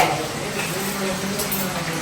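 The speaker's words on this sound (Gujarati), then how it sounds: "ત્યાં કોબીનું શાક બને છે વઘાર કર્યો શાકનો." Cabbage curry sizzles as it is tempered in hot oil in a home kitchen, a continuous frying hiss with stirring underneath, close and fairly loud.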